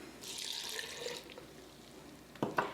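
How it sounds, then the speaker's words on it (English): Coconut water pours into a blender jar already packed with kale, a brief splashing liquid stream that trails off, followed by a couple of sharp knocks near the end. "and then I'll pour in my coconut water."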